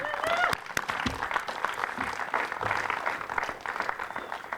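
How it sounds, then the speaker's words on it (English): Audience applause at an outdoor ribbon-cutting ceremony for new sustainable houses, a broad wash of clapping throughout, with a few voices and a brief cheer mixed in. "Let's give a round of applause again to the Hazelwood Initiative for their foresight"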